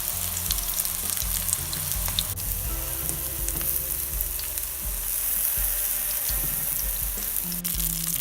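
Homemade chicken sausages for sausage rolls fry in a pan, giving a steady close crackling sizzle with scattered pops and faint stirring or utensil sounds, and no voices.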